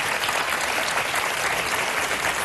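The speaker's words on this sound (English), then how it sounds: "So weird, the audience is applauding." A television studio audience claps in a dense, even burst of applause that holds at a steady level for a couple of seconds and has no voices over it.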